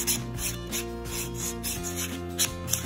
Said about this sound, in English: you're just gonna take your buffing block and you're just going to smooth out the surface of your nail